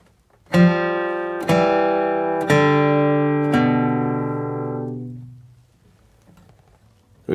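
Four plucked guitar double stops step downward in a country blues flatpicking walk-down, each ringing clearly and evenly spaced before the last one decays into quiet.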